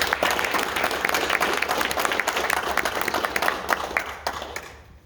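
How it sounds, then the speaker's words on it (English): A crowd at an outdoor event applauds in a dense, steady wash of clapping that holds for several seconds before dropping off at the very end. "So again, round of applause."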